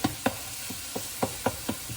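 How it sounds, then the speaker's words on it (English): Ground beef cooking in a pan, with about eight sharp, evenly spaced scraping taps of a utensil stirring it over a low sizzle, close and clear. "the noodles are boiling and the beef is a-cooking"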